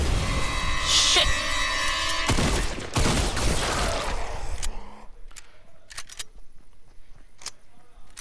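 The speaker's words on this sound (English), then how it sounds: "Oh, maybe it was just your shotgun I heard." Shotgun or sniper fire in a video game: a dense, loud crackling burst early on, then several sharp, separate shots with gaps between them against a quieter background.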